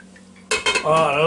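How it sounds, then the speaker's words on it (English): The lid of an Instant Pot Duo Crisp air fryer lifts off with a single close metallic clank, then a brief ringing clatter in a quiet kitchen. "I'm going to take the top off this pot for just a second"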